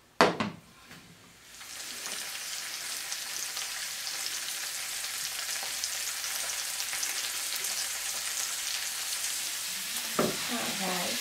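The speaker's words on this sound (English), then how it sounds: "just lightly sauteing here." Chicken and asparagus sauté lightly in a pan with a continuous close sizzle and occasional stirring scrapes, opening and closing with a few sharp utensil knocks.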